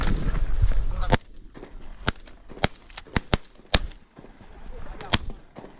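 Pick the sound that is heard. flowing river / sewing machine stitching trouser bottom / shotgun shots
shotgun shots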